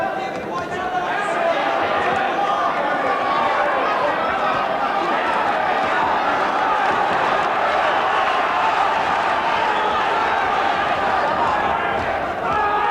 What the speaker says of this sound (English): The the crowd getting behind McAuley.